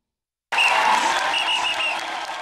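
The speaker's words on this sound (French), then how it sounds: "Du bruit, des acclamations, des chants et danses" Crowd noise at a festive celebration of life in Côte d'Ivoire: after a brief silence, a loud, dense wash of clapping, cheers and voices begins abruptly and holds steady, fading slightly toward the end.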